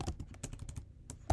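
Rapid typing on a computer keyboard while entering a chat message, a close, quiet run of uneven key clicks with a slight pause before a final louder tap.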